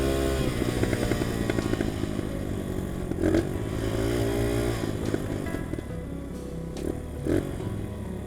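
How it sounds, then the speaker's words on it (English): A UM DTF 150 dirt bike engine idles steadily and loudly nearby, a constant rumbling putter with a couple of slight blips, no voices. "look, it's idling just fine"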